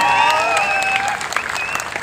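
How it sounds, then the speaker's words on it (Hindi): Audience at a motivational talk at a DXN Freedom Day 2019 event in Bhubaneswar bursting into loud, dense applause for about two seconds, with a few faint voices and cheers mixed into the steady clapping. "तो एक जबरदस्त ताली होनी चाहिए"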